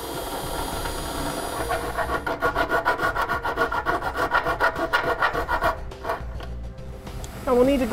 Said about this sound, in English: we're going to need to enlarge our access hole using either a round file bit on our drill, a hand file, a die grinder, or a rotary tool